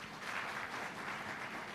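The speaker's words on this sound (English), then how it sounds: "I want to rally all of us to clap for Emyoga program with a big round of applause" An audience at a financial inclusion anniversary event applauds for the Emyoga program, with soft, even clapping heard from a distance and no voices on top.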